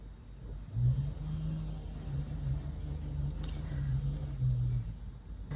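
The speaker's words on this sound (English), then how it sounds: "everyone start mowing their lawns" Lawn mowers running outdoors in the distance, a low steady engine drone that swells slightly a few times, faint and muffled behind a quiet room.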